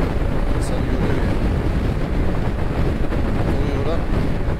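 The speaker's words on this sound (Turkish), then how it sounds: "Rüzgara karşı sürüyoruz." Heavy, constant wind roar buffets the microphone while riding a Kymco scooter into a headwind on the open road between Yozgat and Kırıkkale, loud and unbroken throughout.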